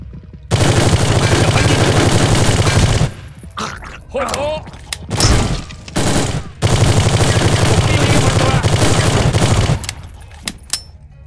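Loud, sustained machine gun fire in Soldier of Fortune 2 rattles in long, close bursts, broken by a short lull filled with clanks and shorter shots before the heavy firing resumes.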